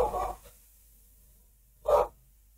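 Two short dog barks or yaps in a quiet room, near Interlagos in São Paulo, the first at the very start and a louder one a moment later, with silence between them.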